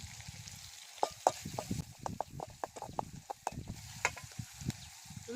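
Onions and curry leaves sizzle and fry in a pan, with a steady crackling hiss beneath a run of sharp scraping stirs from a spoon, close and moderately loud, no talking.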